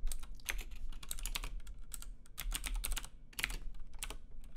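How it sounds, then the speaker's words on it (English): Rapid keystrokes on a computer keyboard while entering Python code, a steady run of close, crisp clicks with brief pauses and no talking. "we can type"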